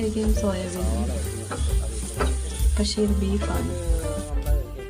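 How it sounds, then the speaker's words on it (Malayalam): Coconut pieces, curry leaves, crushed ginger and garlic sizzle in a hot pan as they are stirred. The close, continuous frying crackle has tonal, voice-like sounds faintly woven through it. "അങ്ങനെ നമ്മളൊരു പാനെടുത്ത് അടപ്പത്ത് വെച്ച് അതിനകത്ത് ശകലം തേങ്ങാക്കൊത്തും കഴിഞ്ഞിട്ട് കരിവേപ്പില ഇട്ട് ശകലം ഇഞ്ചി വെളുത്തുള്ളി ചതച്ച്"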